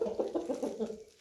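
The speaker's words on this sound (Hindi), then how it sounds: "बहुत आला नस्ल का फाइटर मुर्गा है।" An Aseel fighting rooster gives a quick run of low, throaty clucks, close by and fairly soft. The notes are rhythmic and the series lasts about a second.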